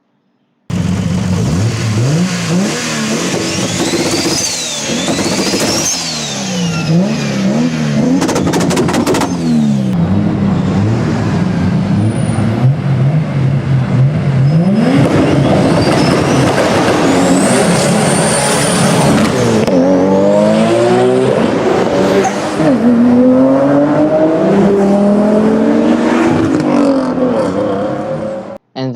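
A car's turbocharger whistles in high, rising tones above a loud, revving engine that climbs and falls in pitch repeatedly, like passes on a race track.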